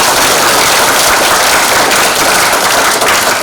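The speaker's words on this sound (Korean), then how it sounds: "큰 박수 좀 부탁합니다." Loud, dense applause fills the hall at a Yeosu ceremony marking the 72nd anniversary of student soldiers going to the Korean War, a steady roar of many hands clapping without pause.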